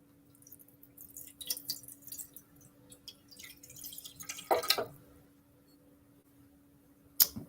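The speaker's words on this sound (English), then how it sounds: "I'm going to pour a little water in." Water is poured into a pot of apples being cooked down for applesauce, giving a few quiet splashes and drips, a brief louder pour near the end, and a sharp clink.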